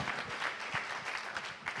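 A festival competition audience claps, a moderate spread of applause with uneven bursts, fairly distant and without speech.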